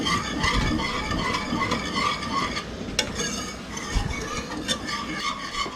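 A pot of dandelion jelly boiling on the stove is stirred steadily, with a close, continuous bubbling and scraping wash and a few brighter clinks against the pot.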